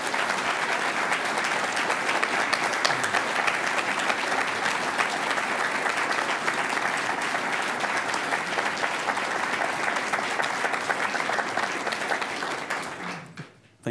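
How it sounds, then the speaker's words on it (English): A television studio audience applauds both candidates at the close of a 2014 Illinois gubernatorial debate in Peoria; continuous, even applause that tapers off at the end. "Let's give a big round of applause to both of our candidates."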